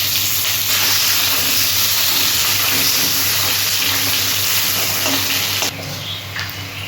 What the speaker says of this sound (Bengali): এবার আমি পেঁয়াজটা দিয়ে দিলাম।